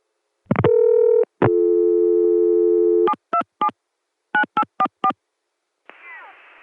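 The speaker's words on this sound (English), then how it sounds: "It's dialing 9844 into the Centrex." Telephone tones on the ConTelNet CCSA network in 1980 begin with two long steady tones, then short dialing beeps in quick groups, and end in a brief faint hiss, all clear and close with no voices.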